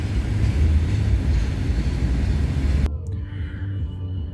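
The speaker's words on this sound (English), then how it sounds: "we got a CN westbound train coming down the line" A CN westbound freight train passing at night on the York Subdivision: loud, continuous low rumble and rattle of rolling cars that cuts off abruptly near the end, leaving a quieter fading hum.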